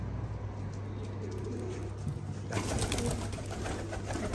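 Pigeons of a new breed cooing in a loft, soft repeated low calls close by, with a busier flurry of cooing and rustling in the second half; no talking.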